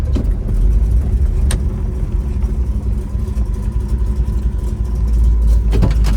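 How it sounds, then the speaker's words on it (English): A 1969 Chevrolet Chevelle 396 Yenko tribute with a 4-speed idles with a deep, loud, rumbling exhaust burble, slightly uneven, close to the car and alone without talk. "you can definitely hear that little exhaust now"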